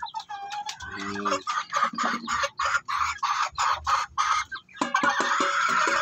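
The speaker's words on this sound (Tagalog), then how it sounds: "ito tumitilaok na to." A Siamo Asil stag rooster in a small backyard poultry pen crows loudly and close, a long ragged call with a brief word spoken just before it.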